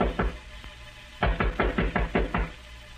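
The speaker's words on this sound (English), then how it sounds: "Suddenly there was a knock on the door." Sharp knocks on a wooden door in an old radio drama: a couple of scattered raps, then a firm rhythmic series of about six close, loud knocks, with no talking over them.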